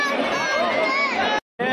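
Crowd bustle fills a busy street in Haridwar, a steady dense babble of many voices close by, cut briefly by a moment of silence near the end.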